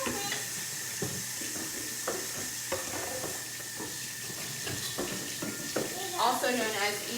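A wire whisk stirs melted chocolate in a pan in a quiet, repeated scraping rhythm, with a steady hiss in the background and people talking now and then.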